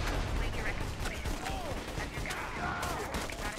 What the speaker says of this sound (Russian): пушка мощная, конечно, вот эта вот автоматика